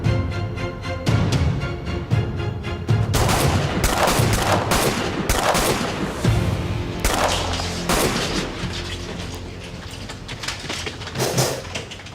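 Loud, sustained gunfire, with dense bursts and rapid shots overlapping and echoing continuously, some heavier booms mixed in.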